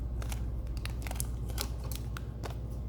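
Several crisp snipping clicks from scissors, close and irregular, over a steady low hum with no voices.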